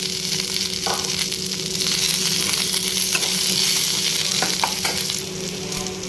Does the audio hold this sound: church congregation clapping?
no